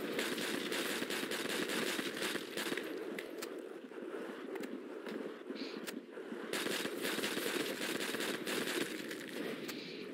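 M1A1 carbine gunfire in World at War Zombies, a steady crackle of rapid, fairly faint shots layered over dense background din, with no voices.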